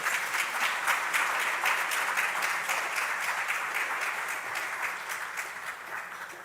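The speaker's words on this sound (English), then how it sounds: "Please, round of applause." Applause from an audience at an official launch event for the Nigeria Gender County Programme: many people clapping in a fast, even patter that swells at first, then slowly eases over about six seconds.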